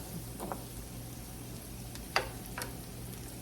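Food fries in a hot pan over a high gas flame, giving a steady low sizzle with a few brief sharp pops and crackles, close and fairly quiet, with no talking.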